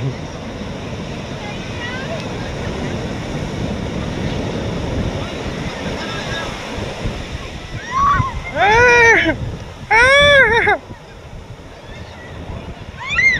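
Sea waves at Puri beach roll and crash steadily, loud and close with wind, while a few voices call out briefly over the surf near the end.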